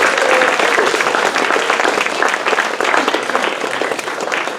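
An audience claps steadily and fairly loudly for several seconds to welcome Daniel Acuff to a talk, a dense wash of many hands with no voices over it.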